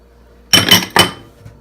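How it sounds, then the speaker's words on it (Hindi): Chopped mangoes, bananas and apples for fruit chaat drop into a kitchen bowl in two quick, loud, close clattering knocks, followed by a faint tap. "अब हम सबसे पहले अपने बाउल में फ्रूट्स डालेंगे। Mangoes, bananas,"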